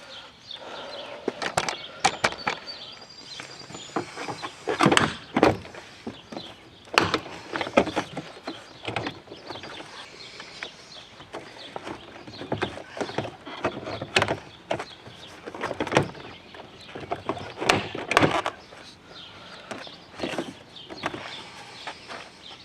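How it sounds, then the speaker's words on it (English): On a Ford Fusion, a screwdriver or spud bar pries off the interior door panel, making a series of sharp plastic clicks, snaps and scraping rattles in irregular bursts, close up and with no talking. "take our screwdriver or your spud bar and get behind this panel here"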